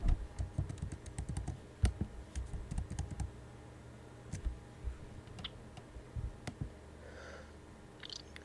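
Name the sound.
typing on a computer keyboard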